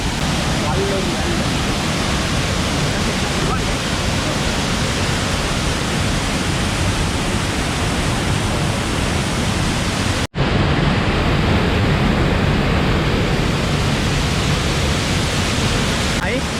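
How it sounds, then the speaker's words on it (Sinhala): Galloru Ella waterfall in the Sinharaja rain forest pours in a loud, continuous broadband rush close at hand, steady throughout with a brief break partway through, and a voice speaks faintly beneath the roar. "අපි මේ ගල්ලොරු ඇල්ල බලන්න එන්න."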